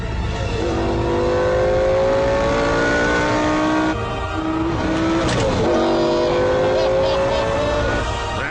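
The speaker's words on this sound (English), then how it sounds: "The sound of a 5-litre V10 engine." Lamborghini Gallardo Spyder with a 5-litre V10 revving hard, loud and close, its pitch climbing in sweeping rises that break off and surge again across the whole stretch.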